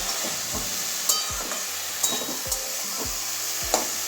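Eggplant and bitter gourd frying in a pan, stirred with repeated scraping strokes of a spatula over a steady close sizzle, with sharp clicks against the pan at intervals.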